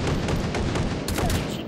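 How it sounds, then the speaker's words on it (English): A flashbang grenade detonates in the VR shooter Hot Dogs, Horseshoes & Hand Grenades, a loud, dense roar of blast and gunfire that fills the short stretch, with a fresh burst near the end. "Flashbang."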